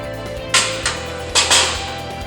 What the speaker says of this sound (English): Now we're going to put the charcoal tray in.